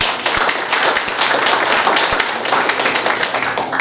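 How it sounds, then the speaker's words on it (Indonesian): An audience claps at a regent's inauguration of health facilities at RSUD Pemangkat hospital: loud, continuous clapping from a close crowd, with a few sharper individual claps standing out. "Ini patut diberikan aplaus"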